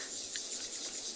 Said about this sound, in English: all the insects, all the cicadas, all the sorts of things going crazy